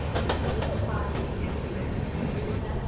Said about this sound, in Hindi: फ़िलहाल पहुंच रहे हैं अभी रानी कमलापति रेलवे स्टेशन और यहाँ पे हमारी ट्रेन का हॉल्ट है